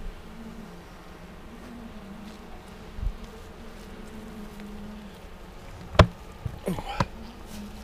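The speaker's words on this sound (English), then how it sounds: "These are good calm bees." Honey bees buzzing around an open hive in a bee yard, a steady low drone close by, with a few sharp knocks and clatters of equipment near the end.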